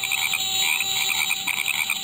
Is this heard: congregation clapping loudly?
no